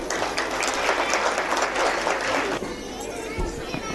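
An audience applauds at a school annual function, with dense continuous clapping and children's chatter mixed in, loud and close before thinning out toward the end.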